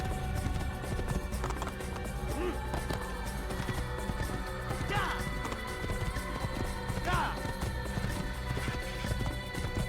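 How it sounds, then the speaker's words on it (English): Horse hooves clatter in a steady clip-clop as a horse moves along in the Assassin's Creed video game, under a continuous busy game soundscape, with talk in the background. "Olha como que o cavalo anda, olha de lado, ó, se liga. Tá saltitando o cavalo."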